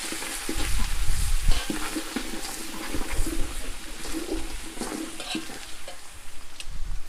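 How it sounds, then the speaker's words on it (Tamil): Ginger garlic paste, ground on a stone grinder, stirred and frying in oil for a village-style country chicken curry, with steady sizzling and repeated scraping strokes of a spoon against the pan, close and fairly loud, no talking. "அடுத்து பச்சை வாசம் போகிற வரை நல்லா எண்ணெயிலே கிண்டி விடணும்"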